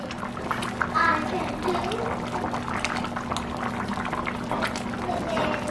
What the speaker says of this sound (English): let it get to a good hard boil. Our gumbo has been cooking for 20 minutes.